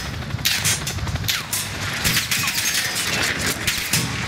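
Sustained gunfire from the video game Call of Duty Modern Warfare, with dense rapid shots and bursts crackling continuously, loud and close, mixed with sharp cracks and debris-like clatter throughout.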